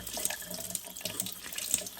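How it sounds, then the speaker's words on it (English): Tap water runs steadily over tomato seeds being rinsed in a kitchen sink, a close, continuous splashing stream with uneven spatters and no voices. "So we'll get a bit of water on them"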